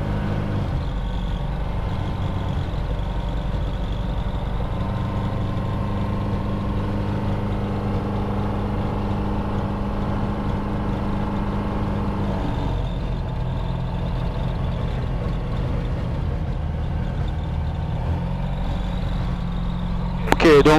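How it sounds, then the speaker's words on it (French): A cold car engine idles steadily while warming up for a long stretch, a constant low rumbling hum that stays even throughout, heard up close. "pour l'instant, on va laisser chauffer le moteur"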